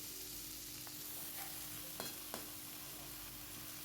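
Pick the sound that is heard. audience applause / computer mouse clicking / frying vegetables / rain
frying vegetables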